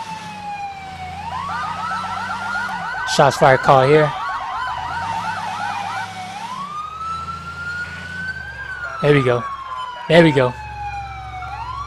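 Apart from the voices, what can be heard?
police car siren in video game LCPDFR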